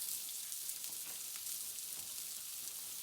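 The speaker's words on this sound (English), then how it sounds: "Now you should be able to see where that salmon is starting to cook" Salmon sears in a hot pan, giving off a steady, faint, hissing sizzle that carries on unbroken and alone, with no voices.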